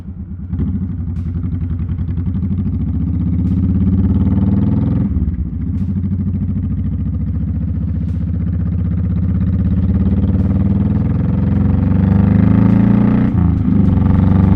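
A motorcycle engine from a project bike build runs close by with a steady, throbbing idle, rising into revs and dipping briefly twice before picking back up.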